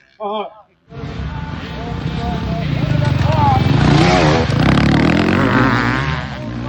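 Dirt bike racing at Walton Raceway during the TransCan event: a loud, sustained motocross engine roar with shifting revs and gear changes, close and continuous after a brief burst of voice at the start.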